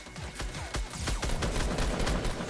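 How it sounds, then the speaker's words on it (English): Rapid, loud Fortnite Battle Royale gunfire: a fast rhythmic string of close shots firing in quick succession, then blurring into a continuous dense volley. "We're getting shot at."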